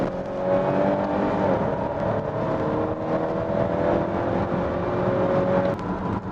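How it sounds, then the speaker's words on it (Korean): Volvo XC60 B5 with permanent all-wheel drive accelerating hard, its engine note climbing in a smooth, continuous rising drone that stays loud and steady before easing slightly at the end. "잠깐 급가속을 해보면"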